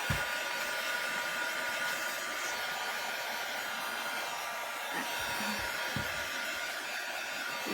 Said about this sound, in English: I think I can have a blow dryer up here.